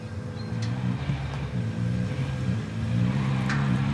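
A vehicle engine in Call of Duty: Modern Warfare, a steady low droning rumble that rises slightly as it revs, with faint clicks over it and no talk.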